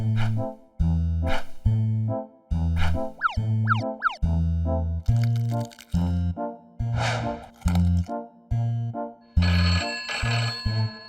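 A cartoonish ringing phone rings in repeated bursts over bouncy musical tones, loud and close, with no talking.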